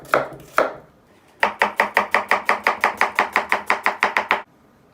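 Knife taps twice on a cutting board, then finely chops an onion rapidly in an even run of about fifteen crisp strokes, close and alone.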